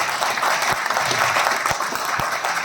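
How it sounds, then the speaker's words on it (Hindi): A large audience at a tour event claps loudly and continuously, forming a thick wash of applause with a few sharper claps standing out nearby. "जबरदस्त तालियां होनी चाहिए"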